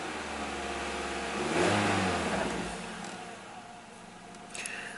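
Engine of a 2010 Nissan Rogue AWD with a suspected failing CVT revs up once and then settles back toward idle, a steady close mechanical hum swelling in the middle.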